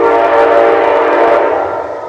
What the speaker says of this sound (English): A train in the background